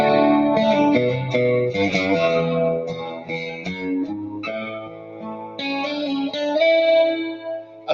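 Electric guitar played with a chorus effect for an 80s-style tone, warbling clean chords and single-note lines with light echo, close and continuous with no talking.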